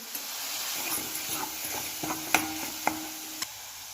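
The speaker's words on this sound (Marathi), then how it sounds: "मोहरी, जिरे, कढीपत्ता, लसूण खोबऱ्याची पेस्ट छान अशी तेलामध्ये भाजून घ्यायची।" Mustard seeds, cumin, curry leaves and a garlic-coconut paste fry in hot oil for stuffed brinjal, giving a steady close sizzle broken by a few sharp spatula clicks and scrapes.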